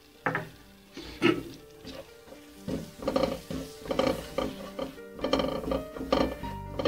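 Butter and maida roasting in a pan for white sauce, heard as a string of scraping and knocking strokes from a spoon against the pan over a faint sizzle, in uneven bursts with no talking.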